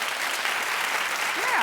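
An audience claps steadily in a comedy show setting, a dense wash of applause with a voice briefly rising over it near the end.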